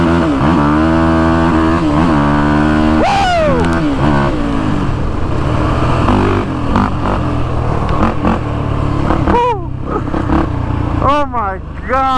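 Can-Am sport quad engine revving hard as it rips across an open field, loud and close with rising and falling throttle sweeps, while a rider talks and exclaims over it.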